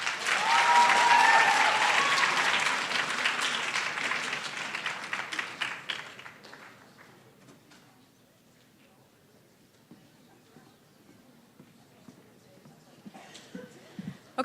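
Audience applause for high school poetry recitation contestants at a competition final, loud and dense at first, then thinning into scattered claps and quiet before a few claps return at the end.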